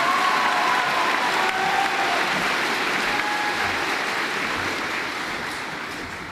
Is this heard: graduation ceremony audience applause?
yes